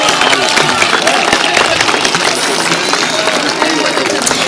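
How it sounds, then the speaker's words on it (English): A large audience at a LACES graduation ceremony for the class of 2025 bursts into loud, sustained applause, dense clapping and crowd noise filling a hall without letup. "Let's give them a huge round of applause."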